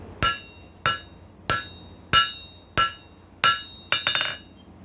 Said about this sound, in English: Your hammer and your anvil are your dies.